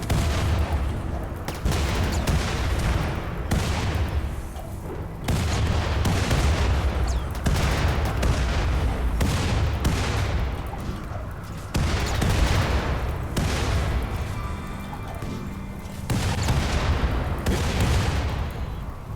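Gunfire in the colony game Rimworld: repeated bursts of rapid shots and booming impacts, dense and loud, with short pauses between volleys throughout.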